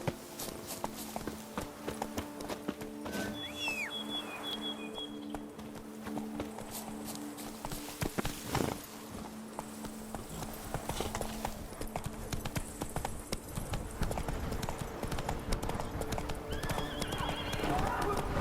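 A horse gallops with steady, loud clip-clop hoofbeats and an occasional whinny in The Witcher 3: Blood and Wine, mixed with game ambience throughout.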